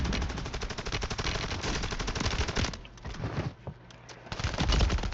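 Rapid gunfire in the video game Call of Duty Warzone, a Plunder match, with dense automatic bursts that keep up for about three seconds and then break into scattered, quieter shots and game effects.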